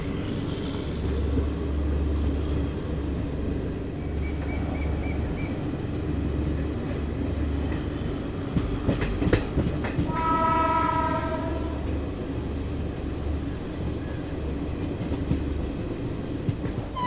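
Alco diesel locomotive at Jamalpur in India rumbling past with a steady heavy drone and wheel clatter, its horn sounding clearly for about a second midway, with no voices.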